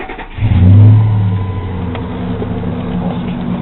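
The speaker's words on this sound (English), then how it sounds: "That's the engine of the F-150." A Ford F-150 pickup truck engine starts with a loud catch and revs up, then settles into a steady, close rumbling idle with no talking.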